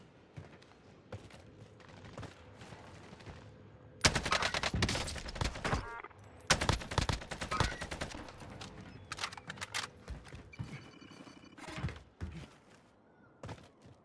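Gunfire in Call of Duty Warzone on Rebirth Island, with heavy automatic bursts and rapid shots that come in loud clusters over several seconds amid game noise, close and intense.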